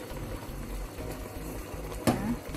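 Pumpkin pieces go into a pot of simmering pumpkin soup: a steady low bubbling, then one brief splash near the end.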